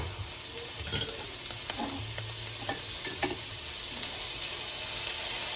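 Butter sizzling in a pan with cooked vegetables and sausage, a steady close frying hiss with a few soft spatula scrapes and no talking.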